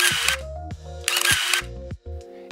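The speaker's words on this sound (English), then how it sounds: "a tantalizing shutter sound" A film camera's shutter fires twice, each time a crisp, close mechanical snap followed by whirring, ringing internal mechanism sounds, with a fainter click near the end and no talk.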